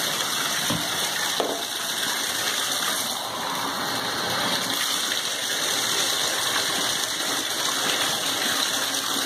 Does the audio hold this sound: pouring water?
yes